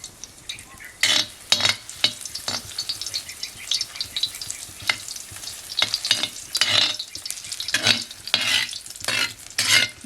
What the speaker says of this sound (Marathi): मसाले एकदम छान पद्धतीने लावायचे आणि फ्राय करून घेऊ.